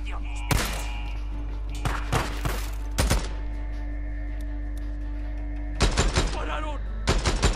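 Gunfire rings out in the video game Days Gone, in several clusters of sharp rapid shots and bursts separated by pauses, over a steady low background hum.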